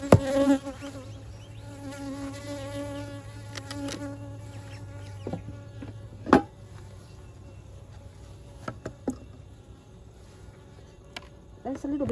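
Honeybees hum steadily around an open hive during an autumn varroa check, with smoke puffed in; a continuous low drone persists throughout, broken by a few brief knocks and clicks of hive handling.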